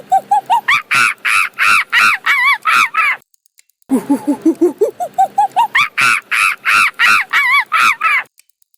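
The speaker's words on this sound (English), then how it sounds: "It's a monkey." A monkey calls in a loud, rapid series of harsh hooting cries, two long bursts separated by a short pause, close and alone.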